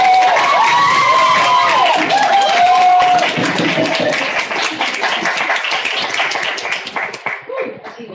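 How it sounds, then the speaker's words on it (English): An audience at an awards celebration applauds and cheers for a staff award recipient, with loud whoops and sustained clapping that gradually fades into scattered claps. "Okay, we'll have to clap here."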